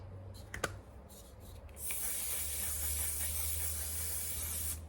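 Setting spray hisses onto eyebrows in one continuous spray lasting about three seconds, close and fairly loud, after a few light clicks.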